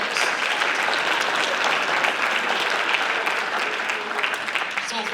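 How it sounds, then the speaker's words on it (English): Audience applause at a high school basketball awards ceremony, a steady, full crowd of hands clapping continuously at moderate distance with no break. "Let's give everybody a round of applause."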